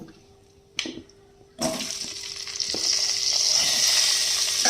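Potato pieces dropped into hot oil already used for frying fish and aubergine and seasoned with black cumin: a clatter, then a loud sizzle that rises and keeps hissing while being stirred.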